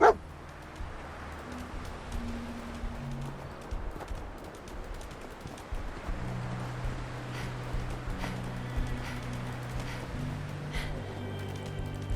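A dog barks and yips in the Fallout 4 video game, with short intermittent barks over a low background of game ambience, footsteps and faint tonal hums, with no talking.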